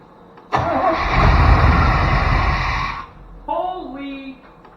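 Chevy truck engine cranking and catching, a loud mid-pitched roar rising as it fires and runs for a few seconds, then dropping off before a short second burst of revving.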